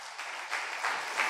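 Congregation at a Sunday church service clapping in praise, a steady wash of many hands that swells in waves, fairly distant and reverberant, with no talk over it.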